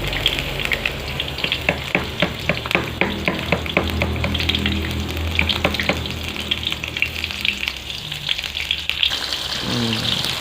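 Chili, shallot, galangal and tomato stir-fried in a pan for a spicy chicken-head sour soup, with a steady loud sizzle broken by repeated scraping stirs of a utensil, close up and with no talk.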